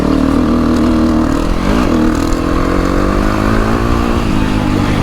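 A motocross motorcycle engine drones loudly and steadily nearby at a motocross track in Trofarello, Italy, its pitch rising and falling slightly as the throttle shifts, with no voices.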